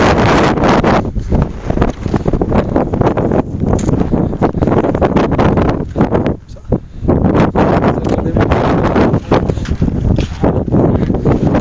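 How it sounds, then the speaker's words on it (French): Strong wind buffets the microphone throughout ski touring at Karellis, a loud continuous roar with gusty surges and a brief lull midway. "On a le vent dans le dos"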